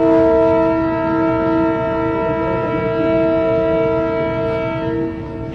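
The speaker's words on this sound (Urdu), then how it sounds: "آزادی ٹرین جنوبی پنجاب کے دوسرے بڑے شہر بہاولپور کے تاریخی ریلوے اسٹیشن کے پلیٹ فارم نمبر 2 پر جب آج دوپہر پہنچی" The Azadi train pulls into platform 2 of the historic Bahawalpur railway station, its horn blaring as a loud, sustained multi-tone blast that holds steady and close for several seconds over the rumble of the rail cars.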